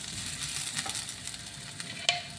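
Onion browns in a pan before corned beef goes in, a soft continuous sizzle with faint stirring scrapes and one sharper clink near the end.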